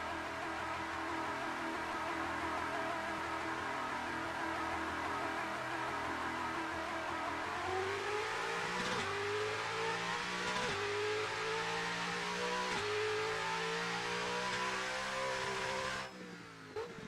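Corvette engine in a racing simulator game revving continuously at high rpm, with rising pitch sweeps through several gear changes, loud and steady with no talking.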